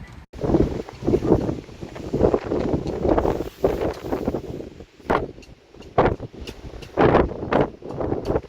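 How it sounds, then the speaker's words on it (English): Strong wind gusting to 42 knots at sea off the Norwegian coast buffets a microphone in repeated gusts, roaring and rumbling, with a few sharp clattering knocks near the end. "the wind is gusting to 42 knots"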